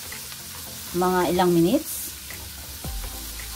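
Asparagus sautés in a pan for risotto, giving a steady low sizzle throughout while a person briefly speaks over it and a second short voice follows.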